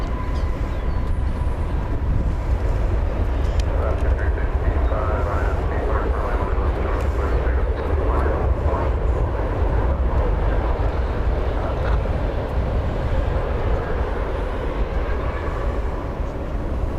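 An Airbus A321 airliner passing at DFW airport, a broad, steady jet roar that holds strong throughout at close range, with faint voices underneath.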